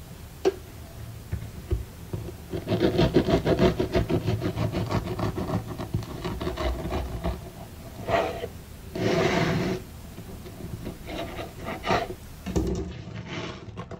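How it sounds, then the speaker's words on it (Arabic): Crust of a large, heavily floured French miche loaf crackles and crunches when pressed, giving dry rustling, ticking crackles in bursts, then louder separate crunches near the end. "اسمعوا صوت القشرة."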